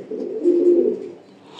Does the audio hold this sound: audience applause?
no